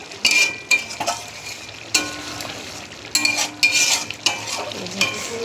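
Fish frying in hot oil, gently stirred with a utensil: a steady close sizzle broken by several soft scraping stirs and small clinks against the pan, with no talk.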